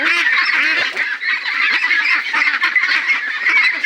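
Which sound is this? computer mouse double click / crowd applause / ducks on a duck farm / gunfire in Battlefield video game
ducks on a duck farm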